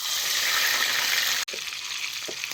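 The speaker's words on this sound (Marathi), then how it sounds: "ही मांदा बी आता जरा तेलात भाजून घ्यायचं." Crab fat fries in hot oil in a wok with cumin, a loud continuous sizzle that briefly cuts out and then resumes, with faint stirring clinks.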